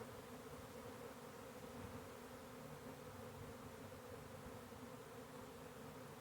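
A honey bee swarm with multiple queens buzzes thickly around and between two hive boxes, an unbroken close drone with layered pitches and no voices.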